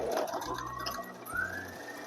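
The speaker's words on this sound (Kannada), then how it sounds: "ಎರಡು ಸೈಡನ್ನು ಅಷ್ಟೇ 4 ಇಂಚಿಗೆ ಡಾಟ್ ಸ್ಟಿಚ್ ಮಾಡಬೇಕು." A sewing machine runs a short dot stitch on delicate fabric for a long gown, a brief close whirring hum with light mechanical ticking.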